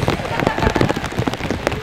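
Rain patters densely on surfaces during an outdoor sermon, a close, steady crackle of drops with a few sharper splashes throughout.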